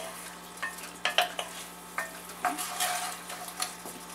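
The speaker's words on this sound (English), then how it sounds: "I'm going to go ahead and deglaze our pan here. I've got 1 cup of beef broth." Beef broth hits a hot pan to deglaze it for Puerto Rican steak, giving a steady close sizzle broken by scraping and stirring knocks from a utensil against the pan.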